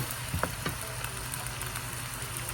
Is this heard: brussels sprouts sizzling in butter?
yes